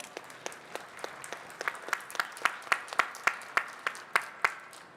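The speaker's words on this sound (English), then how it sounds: "So let's give them a round of applause." A farm convention audience applauds as a team takes the stage, starting as a loose scatter of hands and settling into distinct rhythmic claps that grow louder and more regular toward the end.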